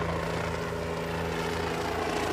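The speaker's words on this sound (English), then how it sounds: "Army helicopters are flying over the disaster zone" Army helicopters flying over a disaster zone at Black River, heard as a steady, continuous rotor and engine drone with a low hum throughout, with no talk over it.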